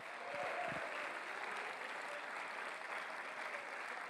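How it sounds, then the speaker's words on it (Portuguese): A church congregation claps in a dense, sustained burst of applause that fills the room evenly from start to finish, fairly faint overall, with a voice briefly heard near the beginning. "Se você quer nisso, aplauda bem forte ao Senhor nessa noite."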